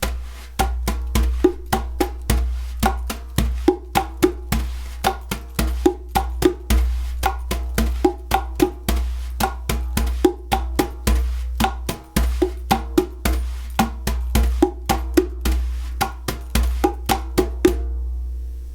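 A hybrid drum kit plays a steady Bolero-pattern groove, with a deep electronic low end under a regular pattern of crisp hits that runs evenly throughout and stops just before the end.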